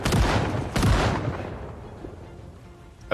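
Two heavy gunshots from a gun in Project Zomboid fire close and loud in quick succession, each trailing into a long fading echo, with a small sharp click near the end.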